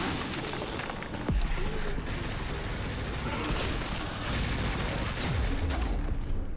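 Machine gun fire in a video game pours out as a dense, continuous barrage of overlapping shots, loud and close, with some speech mixed beneath it.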